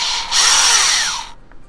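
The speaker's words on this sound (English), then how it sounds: "I do know what a drill is, Jenny." Power drill briefly boring outdoors, a single short high-pitched whirring burst lasting about a second, close and fairly loud, then stopping.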